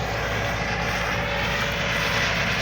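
A John Deere 2264 combine harvester engine idles without load at around 2200 rpm, a loud, dense, unbroken drone with a steady mechanical hum, close by and with no voices over it.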